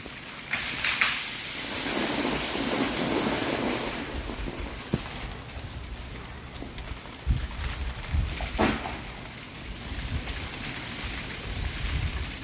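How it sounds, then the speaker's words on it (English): Heavy freezing rain falls outdoors among trees during an ice storm, a dense, steady hiss with a few sharp cracks and thumps scattered through it. "It started Friday night with real bad freezing rain, carried on into Saturday night, which got really heavy freezing rain."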